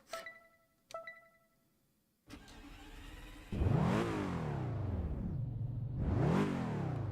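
Car engine in the racing video game Test Drive Unlimited 2, starting after a couple of clicks, then revving hard in two loud rising-and-falling sweeps over a steady idle rumble.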